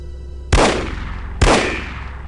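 Two sharp, loud weapon shots fired about a second apart in the spy shooter game No One Lives Forever, each cracking sharply and then ringing out in a short decaying tail over a low steady background hum.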